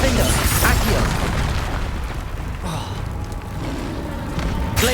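A Bombarda explosive spell blast in Hogwarts Legacy bursts loudly over a dense, chaotic battle mix against a troll, with booming impacts and crackling spell effects stacked throughout.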